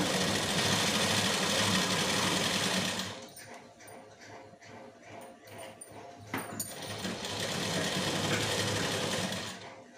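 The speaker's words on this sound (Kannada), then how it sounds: "ಡಬಲ್ ಸ್ಟಿಚಿಂಗ್ ಹಾಕ್ಕೋಬೇಕು." Sewing machine double stitching a blouse sleeve, running in a fast steady mechanical whir for a few seconds, pausing with soft clicks and handling noises, then whirring again at full speed before stopping.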